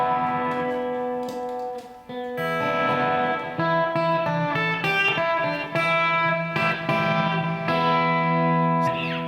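Epiphone Brendon Small Snow Falcon electric guitar on its bridge humbucker, coil-tapped to single-coil for a clean tone, playing bright ringing chords and arpeggios with a brief pause, alone and fairly soft.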